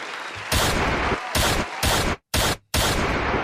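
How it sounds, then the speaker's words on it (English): Several loud blasts of gunfire in quick succession, each a dense burst of noise separated by brief silences, close and harsh. "I need a gunshot."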